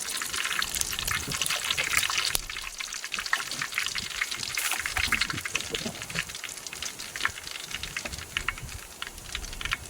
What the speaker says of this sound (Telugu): కొంచెం ఆయిల్ వేసుకున్న తర్వాత